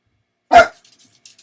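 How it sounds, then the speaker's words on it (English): A chihuahua gives a single sharp, loud bark close by, followed by faint yips and small noises in the background. "we're all going to listen to my 5 chihuahuas bark because they don't know when to shut up"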